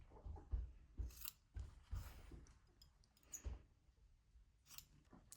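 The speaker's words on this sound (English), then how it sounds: "Now trim the corners." Fabric scissors snipping at the corners of a sewn cosmetic pouch, several crisp close cuts in an uneven rhythm with short pauses between.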